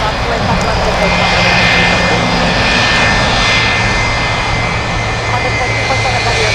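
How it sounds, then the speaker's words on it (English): Jet engines of a Boeing 747 Dreamlifter cargo plane roar steadily in the distance at an airport, a broad, even rumble with a faint whine, while radio voices talk over it. "once the 747 starts moving"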